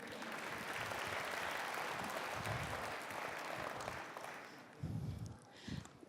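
An audience at a Chin National Day gathering in Indianapolis applauds, a dense wash of clapping from a room full of people that fades out, with a few scattered thumps and murmurs at the end.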